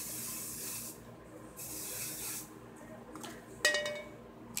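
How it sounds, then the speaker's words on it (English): Light hairspray is misted onto the front of the hair in two short hissing bursts. Brushing and a small clink follow. "just give a light little spray to the front of your hair"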